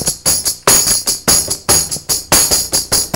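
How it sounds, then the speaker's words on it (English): A bandir, a frame drum with an internal snare, is struck in a steady rhythm, each hit giving a sharp attack followed by a bright buzzing rattle, close and loud with no talk. "It's called a bandir. It has a snare on the inside that causes it to buzz."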